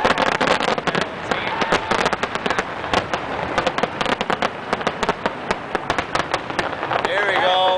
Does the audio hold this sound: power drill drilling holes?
no